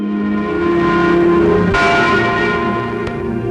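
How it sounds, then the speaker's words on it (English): West Berlin's Freedom Bell tolls on the first anniversary of the Berlin Wall, a loud, resonant bell tone ringing sustained, with a fresh strike partway through. "The Freedom Bell in West Berlin tolls in sympathy for East Germans on the first anniversary of the Wall of Shame."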